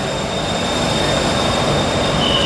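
An electric train passing close by, a loud steady rumbling roar with a thin high squeal running over it throughout.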